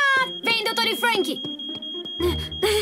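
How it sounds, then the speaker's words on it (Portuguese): A cartoon smoke alarm in the animated Transformers: Rescue Bots series beeps as a steady high electronic tone that runs through the clip, with lively speech and music around it. "Alarme de fumaça?"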